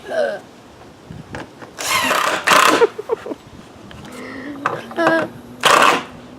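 A power drill drives screws into the wooden frame of a DIY swing set in short whirring bursts, two close together and one more near the end, with faint handling clatter and a quiet voice in between.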